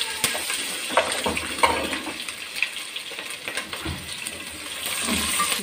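Garlic and ginger hit light-browned onions frying for chana pulao, a continuous crackling sizzle with scattered spatters and stirring clinks, close and steady.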